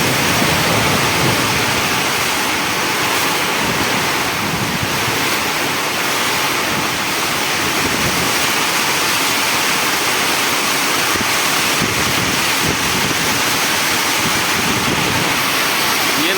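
Loud, steady roar of heavy rain and gusting wind, a dense continuous wash of noise with no voices.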